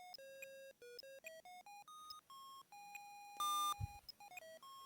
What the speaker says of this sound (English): Thank you major for the beep.